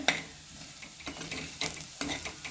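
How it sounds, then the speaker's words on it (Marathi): Turmeric mixture with tomato being stirred and sautéed in a pan, a soft steady sizzle broken by several scraping strokes of a spoon against the pan, close and alone with no voices. "यामध्ये आपण अर्धा चमचा हळद घालून घेणार आहोत. हे मिश्रण छान परतून घेऊया."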